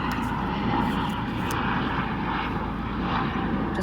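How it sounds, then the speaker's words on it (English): A helicopter passes overhead, flying near a private airport, its steady broadband engine and rotor drone loud and continuous throughout with no voices. "I apologize about the helicopter."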